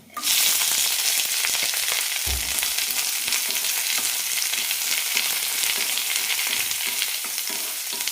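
Onions, green chillies and mustard seeds fry in coconut oil with a loud, steady sizzle that runs throughout, broken by a brief low thump near the start as the pan is stirred.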